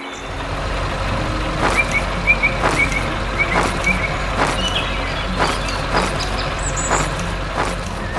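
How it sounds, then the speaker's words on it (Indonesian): A red truck works on a farm, its engine rumbling steadily while a reversing alarm beeps in a regular, repeating rhythm throughout. Nobody speaks. "truk merah sedang bekerja keras"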